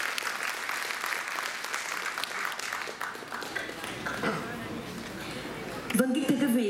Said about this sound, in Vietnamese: Một tràng pháo tay thật lớn